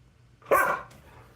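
A dog gives a single short, loud bark close by indoors, followed by quiet room tone.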